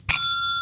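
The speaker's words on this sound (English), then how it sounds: "Re-ring that bell, Brandon" A small bell is struck once, ringing out loud and close with a clear metallic tone that hangs on and slowly fades, with no other sound.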